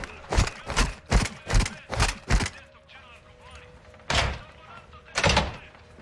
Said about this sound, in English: Open the fucking door!